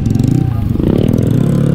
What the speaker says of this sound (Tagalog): Ewan ko lang kung naririnig nyo yung ingay ng motor niya